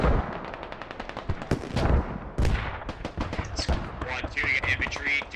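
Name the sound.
machine gun fire in the video game Squad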